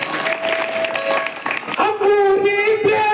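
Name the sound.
audience applause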